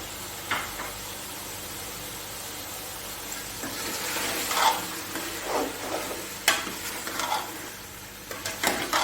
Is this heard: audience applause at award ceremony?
no